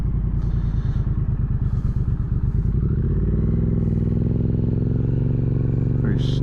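A 2023 Triumph Speed Twin 900 motorcycle rides along with a steady throbbing engine note that rises in pitch partway through, under a rider talking close by.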